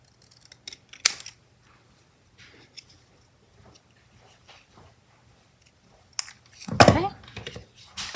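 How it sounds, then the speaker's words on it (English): Scissors snip something off during a glue craft project, a couple of sharp, brief cuts near the start and a louder cluster of snipping handling near the end, close and quiet otherwise. "We'll just snip this off."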